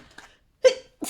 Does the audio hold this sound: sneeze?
yes